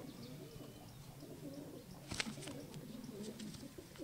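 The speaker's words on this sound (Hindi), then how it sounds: "बहुत प्यारे प्यारे कबूतर हैं इनके, बहुत अच्छा जोड़ा है ये इस वक्त।" Pigeons from a breeding pair, one of another breed, coo softly in repeated low, rolling phrases, close and fairly quiet, with a brief flutter or scrape midway.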